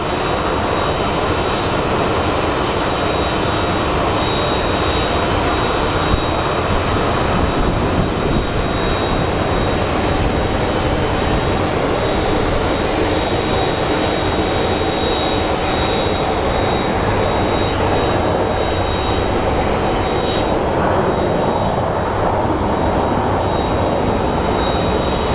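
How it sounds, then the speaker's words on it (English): A Boeing 737 MAX jet airliner with large engines at Phoenix Sky Harbor International Airport makes a loud, continuous engine roar that holds steady throughout with no break. "That is a 737 MAX. You can tell by the size of the engines."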